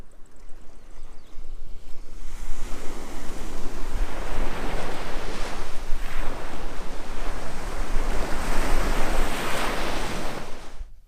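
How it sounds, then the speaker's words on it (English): Waves wash onto a sandy beach with rocks on Serifos, Greece, a loud, steady surf roar that builds after a quieter start, with wind buffeting the microphone and no voices. "it's beautiful sandy beach with some rocks and some nice shadow places by the tamarisk trees."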